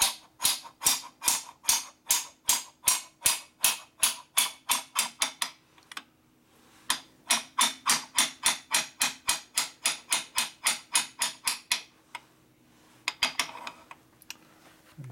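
Parts being tapped into a Harley cylinder head bushing: long runs of sharp, evenly spaced metallic taps, close and crisp, with one brief pause and a few scattered knocks near the end.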